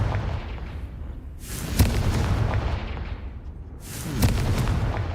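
Two heavy, booming fire-spell explosions from a Confringo cast in the video game Hogwarts Legacy, about two seconds apart, each a sharp blast that rumbles and decays over a low background.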